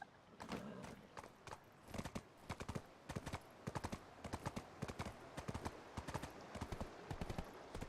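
Horse hooves clip-clop in a steady galloping rhythm as a rider travels on horseback in the online role-playing game Black Desert Online, the repeated hoofbeats close and loud over a soft ambient game background.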